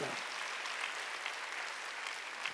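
A church congregation at a Korean Sunday worship service claps together in a steady, moderately quiet round of applause that fills the room evenly for a couple of seconds.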